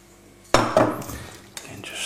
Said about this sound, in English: And just stir that through.